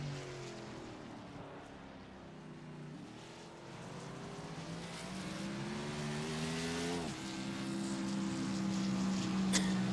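A race car engine in a sim racing game, running on the Sonoma circuit, drones steadily and rises and falls in pitch through gear changes and revs, heard continuously from an onboard position.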